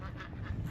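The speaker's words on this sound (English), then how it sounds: "They've got the ducks going through there to take care of all the pests." Ducks kept among fruit bushes for pest control in a South Carolina food forest, a short burst of quacking, faint and a little distant.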